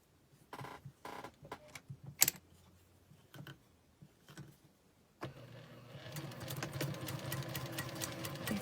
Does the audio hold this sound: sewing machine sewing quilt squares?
yes